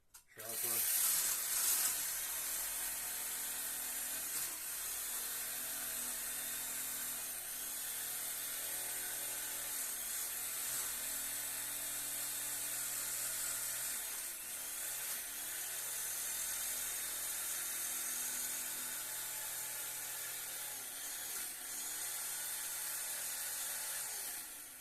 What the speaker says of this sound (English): The blade's trying to crawl out of the foam because one side might be sharper